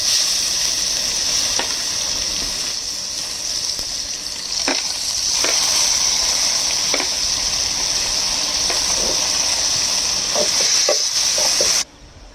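Chopped onions and curry leaves sizzle and fry in a hot pan with a steady, loud hiss, broken by a few soft stirring clicks, then cut off abruptly near the end.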